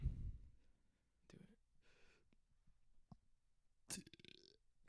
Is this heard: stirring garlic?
no